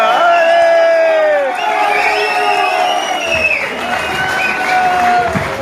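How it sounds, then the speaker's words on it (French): An audience at a wedding celebration claps and cheers loudly, with whoops and shouting voices rising over dense, sustained applause close by. "Merci de les accueillir avec des applaudissements dignes de ce moment historique."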